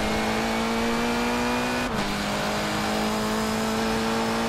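A race car's engine screams at high revs down a straight in Forza Motorsport 7, a loud sustained whine with a brief dip as it shifts gear before pulling on again.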